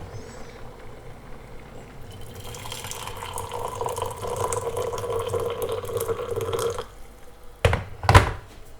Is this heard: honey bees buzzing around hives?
no